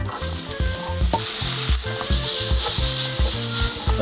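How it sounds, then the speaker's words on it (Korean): Garlic, onion and peperoncino fry in olive oil in a preheated pan, with a loud, close, continuous sizzle and rhythmic scraping as the pan is stirred. "이런 식으로 팬이 예열되고 수분기가 없으면 올리브 오일, 여기다가 마늘, 양파, 페페론치노,"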